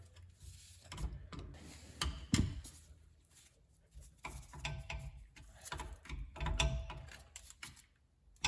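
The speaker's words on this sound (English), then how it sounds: "Pop off the dust cover." Metal dust cover pried off the wheel hub of a 1968 VW Bay Window Bus during a disc brake conversion, giving several sharp mechanical clicks and scrapes at close range with quieter handling noises in between.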